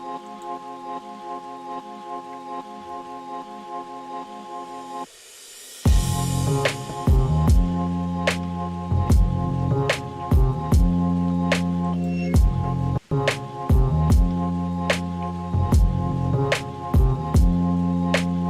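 Rain sounds woven into a music track, a steady soft patter running beneath sustained tonal chords, then continuing under a fuller rhythmic beat with regular percussive hits after the first few seconds.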